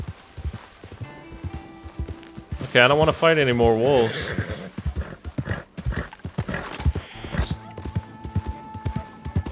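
A horse in Red Dead Redemption 2 clip-clops with quick hoofbeats, then lets out a loud, wavering whinny, while someone talks over it.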